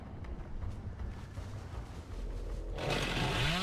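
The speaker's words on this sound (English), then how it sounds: "Revving up that chainsaw" A chainsaw motor in the video game Dead by Daylight rumbles steadily, then revs up loudly near the end with a rising, buzzing pitch.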